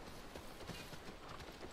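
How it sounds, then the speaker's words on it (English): Horse hooves clip-clop steadily in The Last of Us on PS5, a soft, even patter of footfalls heard alone at low level against a wash of ambient game noise. "get your ass on that horse, Joel."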